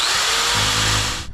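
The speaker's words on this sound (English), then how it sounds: "this little rubber eraser wheel helps rub it off" Rubber eraser wheel spun by a power drill, scrubbing cracked stickers off painted metal: a steady, loud whirring grind that holds for over a second, its pitch dropping slightly under load before the drill cuts off.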